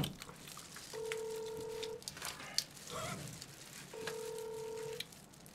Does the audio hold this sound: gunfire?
no